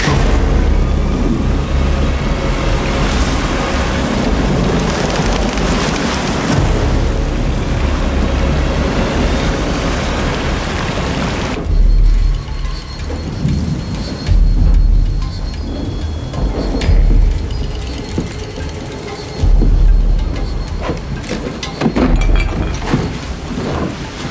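Heavy thunderstorm with pouring rain and rolling thunder, loud and close, a dense roar of rain with booming cracks, easing into quieter rain punctuated by several deeper thunder rumbles.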